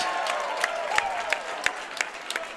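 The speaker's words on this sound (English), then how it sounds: "How about a round of applause for both of these warriors going 6 hard-fought rounds?" Crowd applause at a boxing event after a six-round fight, moderate and steady with some distinct sharp claps and a constant murmur of voices underneath.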